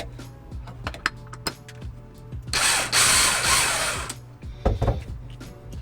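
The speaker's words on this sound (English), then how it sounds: "we'll just loosen up these screws on either side" Screws are loosened on either side of a new kitchen faucet during a DIY sink install. Scattered metallic clicks and ratcheting taps lead into a louder rasping burst midway, then a few more clinks.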